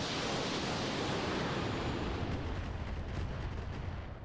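Mech weapons fire in the video game Roguetech as a dense, roaring wall of blasts and rumble, loud and continuous before tapering slightly at the end, with no talking.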